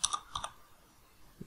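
Keyboard typing in a spreadsheet, a few faint quick key clicks clustered at the start, then a quiet gap and one soft tap.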